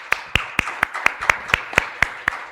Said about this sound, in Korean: 우리 한번 박수하실까요?